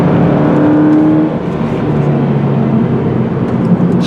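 A 2018 Toyota 86 GT sports car engine pulls hard under acceleration, a loud close rising whine and rumble heard alone without talk.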